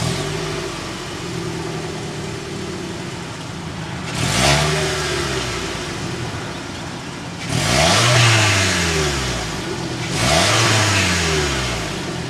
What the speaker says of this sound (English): start up so you can hear that exhaust note